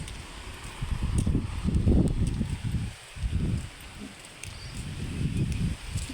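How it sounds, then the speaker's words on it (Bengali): Strong wind gusts through trees on a rainy day, a loud, continuous roar of rustling foliage that swells and eases in waves, with a brief lull midway. "এই দেখেন বাতাস"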